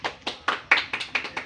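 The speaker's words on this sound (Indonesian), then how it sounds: "Tepuk tangan untuk kelompok 1." A class claps for a student group after a presentation, a short burst of about eight crisp, evenly spaced hand claps, close and clear with no talk.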